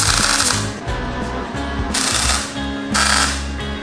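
Arc welding on custom steel barwork for a Toyota Hilux in a home shed, with three loud bursts of crackling, buzzing weld noise separated by short pauses.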